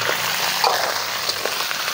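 Crab sizzles and fries in red curry paste for a Thai pad pong curry, a steady close crackle with faint stirring ticks and no talking.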